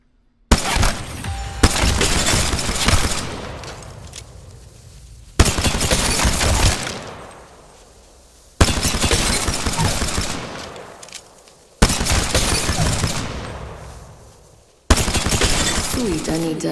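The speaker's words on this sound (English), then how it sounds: "I shoot." Gunfire in Apex Legends arrives as five loud, sudden bursts of heavy shooting spaced a few seconds apart, each one decaying into a rumbling tail before the next.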